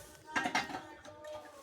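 A metal pot of water for Maggi is set onto a gas stove, making two quick, close clanks followed by faint lighter clatter.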